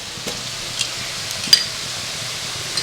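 Ginger and garlic paste fry with onions in a pan for chicken tehari, giving a steady soft sizzle broken by a few light scraping stirs.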